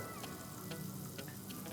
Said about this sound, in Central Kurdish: یەک پارچە کەرەمان هەیە دەیخێنە سەر تاوە